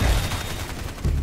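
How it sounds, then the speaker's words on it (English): Sentry guns firing in the video game Evolve, a dense rapid burst of automatic gunfire filling the whole moment, loud and continuous with a heavier thump near the end. "And then he's also got sentry guns,"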